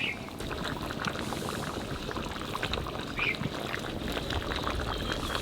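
Village-style chicken curry cooking in a pot over a strong flame, with a steady bubbling, sizzling wash under a busy outdoor background and occasional faint voices.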